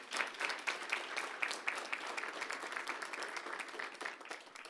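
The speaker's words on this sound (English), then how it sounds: "Give him a round of applause." Audience at a school board meeting gives a round of applause for a high school teacher and assistant basketball coach, a steady, moderately distant clapping that holds evenly without speech.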